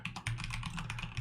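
Rapid clicking of a computer keyboard while entering an author name in Adobe Acrobat Pro, the keystrokes close and steady in quick succession with no voice over them.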